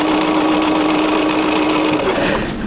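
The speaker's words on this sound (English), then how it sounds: "go ahead and sew that one" A sewing machine runs fast and steady for a few seconds, stitching quilt block seams. The whir is loud and close, with no talking.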